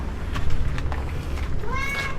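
A house cat meows once in a rising, drawn-out call near the end, heard close over a low rumbling background with a few soft knocks.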